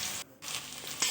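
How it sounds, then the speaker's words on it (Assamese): Chopped onions fry with whole garam masala in a hot wok, giving a dense close sizzle that cuts out for a moment and then picks up again with a stirring scrape. "পিঁয়াজখিনি ভালকৈ ভাজি ল'ম।"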